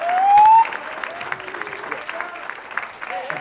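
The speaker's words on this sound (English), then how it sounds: "So I'd like to give a round of applause to them for bringing us together." An audience gives a round of applause at a thank-you gathering, a brief burst of clapping that starts loud and then thins into scattered claps, with a voice briefly over the start.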